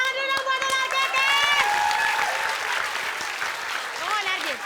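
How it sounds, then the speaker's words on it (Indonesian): A studio audience on an Indonesian comedy show applauds, a lively burst of clapping and cheering with whistle-like tones and voices mixed in, staying loud and dense before thinning slightly near the end. "Kita kasih tepuk tangan dulu dong buat Ular Keket."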